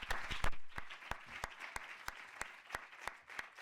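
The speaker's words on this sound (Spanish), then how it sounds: "pues un aplauso" Sparse, distinct hand claps from a small audience at the close of a journalism conference talk, evenly spaced single claps at moderate distance in a quiet hall.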